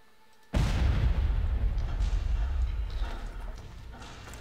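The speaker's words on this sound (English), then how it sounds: "I'm gonna rocket launch that guy actually" A rocket launcher fires and its round explodes in the Far Cry shooter, hitting with one sudden, loud, heavy boom whose deep rumble lingers and slowly fades over several seconds.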